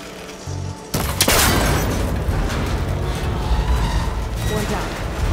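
In Horizon Forbidden West, a shot breaks a cable connector, setting off a sudden loud boom and burst that rolls into a sustained rumbling roar of collapsing machinery, with a faint voice beneath.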